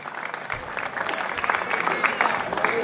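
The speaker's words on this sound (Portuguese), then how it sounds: "vou pedir uma grande salva de palmas à Comissão de Festas" A festival crowd bursts into applause at the Nossa Senhora da Luz celebrations, a dense wash of clapping that swells quickly after a brief quiet start and stays loud.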